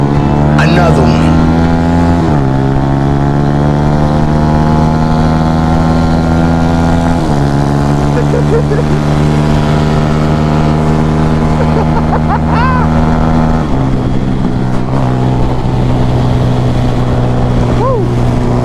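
Motorcycles roar fast along a road in Mandeville, Jamaica, their loud close engines holding steady high revs with several gear-shift drops over a long ride, while people shout and talk now and then above the constant noise.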